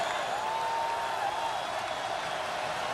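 A football stadium crowd roars steadily through a third-and-13 play in a Wofford versus South Florida college game, a dense, continuous wash of cheering that stays loud and even with no clear breaks.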